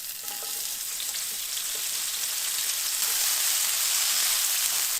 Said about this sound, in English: I'm going to go ahead and cook our onions until they're translucent